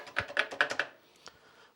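A quick run of about six distinct key presses clacks on a worn Commodore PET computer keyboard, close and crisp, followed by a single lighter tap after a short pause.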